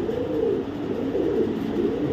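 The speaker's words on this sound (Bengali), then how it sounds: "এখন দেখাবো একটা অরিজিনাল পাইথন ব্লাড লাইনের, একদম অরিজিনাল পাইথন ব্লাড লাইনের একটা রেড চেকার রেসার নর কবুতর।" Soft continuous cooing from a red checker racer cock pigeon of Python bloodline, registered to a 2022 club, held close and steady throughout without any speech.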